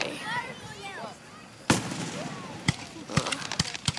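Fireworks at the Quail Springs display: a sharp loud burst followed by several more scattered bangs, with talk and whistling crackle under the reports.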